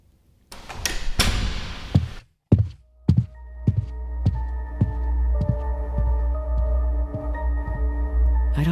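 A door is locked in an audio drama: a few heavy clunks and knocks, followed by a low, steady rhythmic throbbing under a faint sustained hum.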